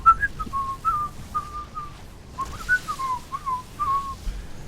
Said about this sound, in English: Practice my whistling.